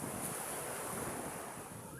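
Big ocean waves roll onto a sandy beach at Bacuag, a loud, continuous roar of surf mixed with wind buffeting the microphone, with no voices.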